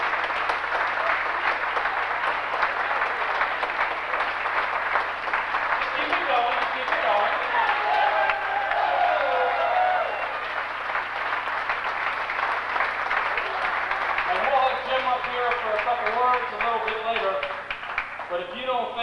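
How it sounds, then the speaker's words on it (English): Sustained applause from a banquet audience at a 1989 professional wrestling awards dinner honoring Ric Flair, steady and dense for the whole stretch, with a voice talking over it in places. "Just keep the applause going, because he likes to hear a round of applause before he comes in."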